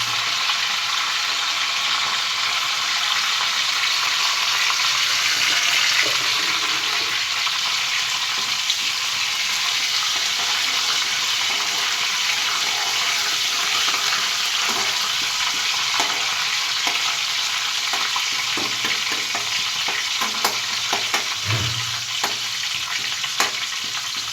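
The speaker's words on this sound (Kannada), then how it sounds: "ಮೀಡಿಯಮ್ ಫ್ಲೇಮಲ್ಲಿ ಇಟ್ಕೊಂಡು ಸ್ವಲ್ಪ ಕರಿಬೇವನ್ನು ಹಾಕೊಂಡಿದ್ದೀವಿ ನೋಡಿ. ಸೌಂಡ್ ಹೆಂಗೆ ಬರ್ತಿದೆ, ರಪ ರಪ ಅಂತ ಹೆಂಗೆ ಬರ್ತಾಯಿದೆ" Curry leaves crackle and sizzle in hot oil over a medium flame, a steady close frying hiss with scattered sharp pops for egg curry, continuing throughout with no talk.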